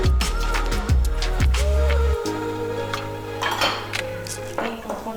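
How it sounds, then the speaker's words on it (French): Flour, baking powder and milk stirred in a bowl for chocolate caramel cookie dough, with a spoon clinking and scraping against the bowl in quick strokes close by; a brief tonal ring comes early. "Donc on remue la farine, la levure. Et là je vais y verser mon lait."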